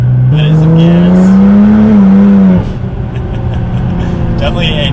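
A Nissan GT-R with a transmission tune and slipping clutches accelerates hard in third gear, a loud close engine note rising steadily, then dropping off as the throttle lifts, leaving a lower rumble.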